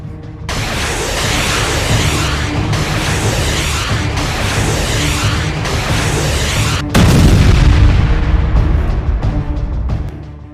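Heavy booming blasts from a missile and rocket attack on a settlement, a continuous loud roar of explosions with a sharper, louder impact near the end, no voices.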